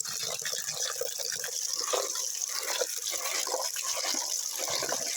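Water is poured and swished through aquarium gravel as it is rinsed, giving a continuous, soft, close gurgle and splash that runs evenly throughout, with no voices.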